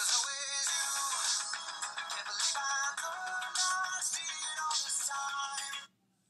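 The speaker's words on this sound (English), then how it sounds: "This is my ringtone." A bright, melodic phone ringtone plays loudly and continuously for several seconds, then cuts off abruptly.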